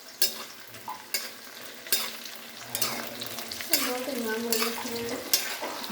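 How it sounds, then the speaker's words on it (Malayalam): Food fries in hot coconut oil with steady sizzling, punctuated by regular scraping stirs of a spatula against the pan, close and moderately loud throughout. "എണ്ണ തെറിച്ചു."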